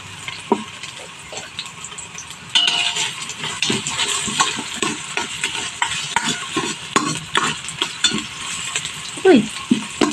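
Garlic sizzles and fries steadily in a hot pan, with a spoon scraping and stirring it in frequent clattering strokes; the sizzle grows louder partway through and continues close up without any talking.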